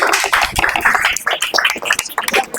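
An audience applauds with a dense, steady patter of many hands clapping close by, with no voices over it.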